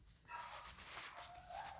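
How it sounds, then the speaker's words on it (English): Dog barking in the background of a quiet indoor room, a few faint, muffled barks and whimpers spread across the clip with no talk over them. "You can probably hear my dog in the background."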